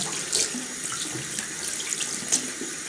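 Tap water runs steadily into a sink, a close, broadband splashing hiss with a few brighter splashes, no voices.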